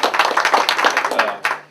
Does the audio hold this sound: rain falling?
no